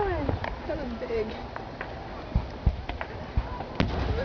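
Fireworks go off at a distance as scattered cracks and pops, some rising whistles early on, with people talking over them.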